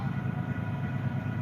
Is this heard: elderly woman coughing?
no